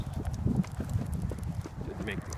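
A horse canters outdoors with a steady, muffled rhythm of hoofbeats close by, heard under a person's talking.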